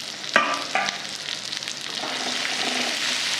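Eggplant cooking in a pan with masala sizzles and crackles steadily, opened by a couple of sharp clatters from stirring before the frying settles into a continuous hiss.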